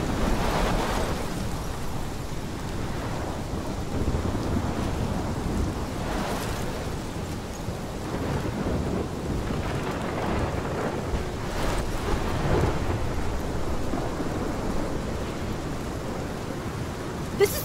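A thunderstorm with heavy rain in the video game Life Is Strange, a dense, steady roar of rain and wind with rolling thunder swells throughout, and no voices.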